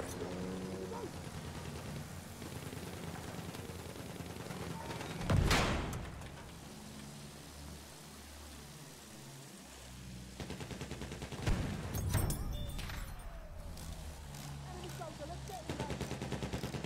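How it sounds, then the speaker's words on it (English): Anti-aircraft guns fire in the video game Battlefield 1 on the Zeebrugge map, heard as steady bursts of gunfire with two loud blasts standing out, over constant battle noise and voices. "Anti-aircraft guns, there!"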